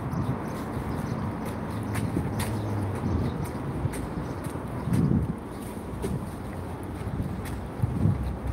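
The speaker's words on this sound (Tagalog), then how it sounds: "Ang sarap ng simoy ng hangin." Steady early-morning breeze blows across the microphone while walking outdoors, with soft gusts and low rumbling buffets, fairly loud and continuous, with no talking.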